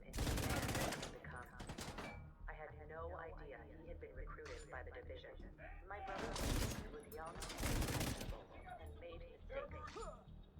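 Gunfire in The Division 2, bursts of loud rapid shots in several clusters, with a voice talking between and under the volleys.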